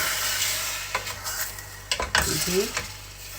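Chicken wings are stir-fried with seasonings in a small pot, giving a steady close sizzle broken by scraping, clinking stirs of the utensil against the pot.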